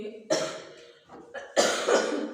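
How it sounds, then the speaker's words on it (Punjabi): Two harsh, dry coughs from a person with a lingering cough burst out close and clear, separated by a short pause. "ਮੈਨੂੰ ਖਾਂਸੀ ਬਹੁਤ ਦਿਨਾਂ ਤੋਂ ਆ ਰਹੀ ਆ ਤੇ ਸੁੱਕੀ"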